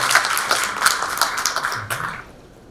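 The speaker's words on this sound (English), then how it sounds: "it's a big round of applause for our young researchers" A crowd claps in a dense, continuous round of applause that tapers off near the end.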